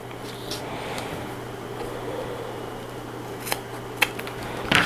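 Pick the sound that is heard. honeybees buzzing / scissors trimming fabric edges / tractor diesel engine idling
scissors trimming fabric edges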